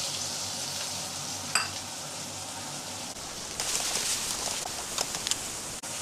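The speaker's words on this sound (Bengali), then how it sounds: "এবার চিংড়ি মাছটা আর পেঁয়াজ টমেটো ফ্রাই হয়েছে, ভালো করে তেল ছাড়ছে।" Prawns fry with onion and tomato in oil, a steady close sizzle and crackle with occasional stirring scrapes and brief pops, in a village-style Bengali taro stem dish.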